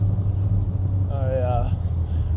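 A car's engine hums and rumbles at low speed while creeping through stop-and-go traffic, a steady close drone with a brief tonal whine midway; someone talks over it.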